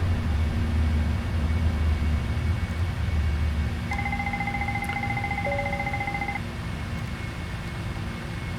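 Repeating engine fire warning bell inside a 747-400 cockpit in the PMDG Prepar3D flight simulator during takeoff, a rapid steady ringing lasting a few seconds over the constant drone of engines and cockpit noise.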